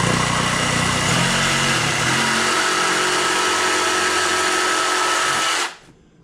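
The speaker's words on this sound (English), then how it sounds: "you really don't want to run your saw too fast. This is a variable speed because it will burn, melt the plastic." A variable-speed power saw rough-cuts plastic for a porthole build, whining loud and steady at close range for several seconds before cutting off abruptly at the end, with no voices.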